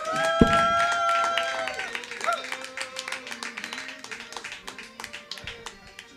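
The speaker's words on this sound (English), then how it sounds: "Make some noise for Luke Miller, everybody." A live comedy show audience applauds at the close of a set, a dense roll of claps that continues under a host's voice and music, with scattered cheers.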